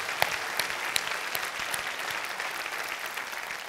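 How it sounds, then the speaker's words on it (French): A theatre audience at Bobino claps steadily for a comedy show, a dense, continuous roar of applause with a few sharper individual claps standing out. "Et j'aimerais qu'on applaudisse, s'il vous plaît"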